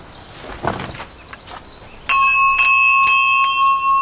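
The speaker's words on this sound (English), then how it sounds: "Classy doorbell." A doorbell at Chapel Bay Fort rings with a clear metallic bell tone, struck several times in quick succession and held ringing, loud and close, after some quiet shuffling.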